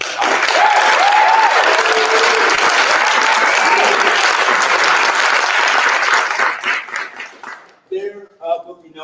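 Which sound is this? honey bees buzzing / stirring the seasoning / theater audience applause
theater audience applause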